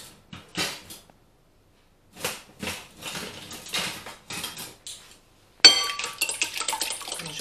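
A small whisk mixes lemon tart ingredients in a bowl, with bursts of rapid metallic scraping and clinking separated by pauses, turning louder and steadier in the final seconds.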